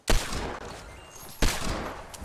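Gunfire in the video game Fortnite, with two loud, sharp bursts of shots followed by rattling decay, near and alone without talking.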